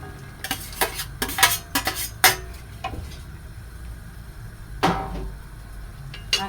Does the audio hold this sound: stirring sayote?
yes